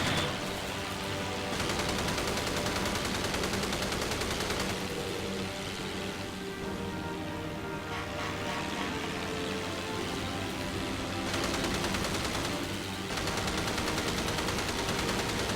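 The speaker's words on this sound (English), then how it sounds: "Trying to get the gunfire to go right in there." Sustained naval gunfire in the video game Battlestations Pacific, a dense, continuous loud rattle of rapid shots lasting the whole stretch, with brief dips in intensity.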